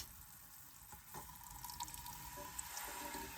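Water runs from a tap or is poured into a pan of mushroom gravy, a faint, steady trickle with light splashing that goes on unbroken for a few seconds in a quiet room.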